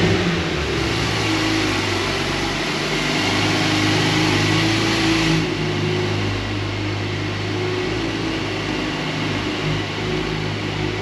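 A Porsche 911 engine on a cold start, a loud steady idle with a constant low drone holding evenly throughout.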